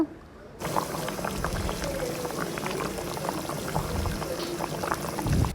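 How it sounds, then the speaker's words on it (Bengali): A pot of bottle gourd and chana dal bubbles and simmers steadily on the stove, a dense, continuous boiling texture with small pops, starting after a brief quiet moment and holding at a moderate, close level. "আমি লাউ তারপরে চনার ডাল দিয়ে রান্না করছি"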